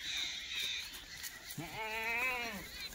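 Kathewadi goats bleating close by in a pen at a livestock delivery, several short calls followed by one long wavering bleat, over a steady bed of background noise.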